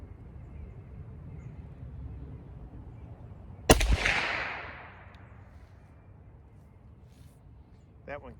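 A single sharp rifle shot from a Remington No. 5 rolling block chambered in 7mm Mauser cracks loudly outdoors, then trails off in a rolling echo over quiet background hiss, with a small knock near the end.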